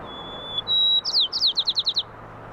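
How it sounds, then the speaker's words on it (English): Soft sparrow song sits in the background, a couple of thin sustained whistles followed by a quick run of about eight short, evenly spaced chirps, delicate and fairly distant. "the sparrows were singing more softly, hitting much lower notes"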